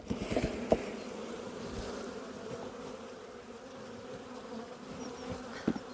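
Steady, dense buzzing of many honey bees close by at a hive being shaken, with a few sharp knocks and bumps near the start and end.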